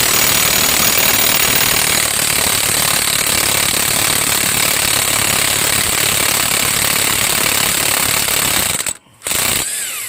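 A 12-year-old electric DeWalt impact wrench hammers steadily at a Trailblazer front axle nut for about nine seconds, loud and close, then cuts out briefly before a short final burst.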